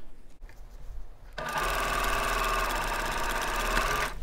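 A sewing machine stitches quilt pieces right sides together with a quarter inch seam, starting after a brief quiet handling moment and then running steadily up close for about three seconds.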